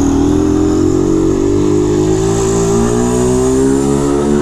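A motorcycle engine drones loudly up close, its pitch climbing steadily as it revs and accelerates.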